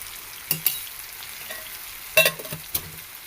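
A masala for egg tomato curry is stirred in a pan over a low flame, a faint sizzle under a few sharp spoon scrapes and clinks against the metal.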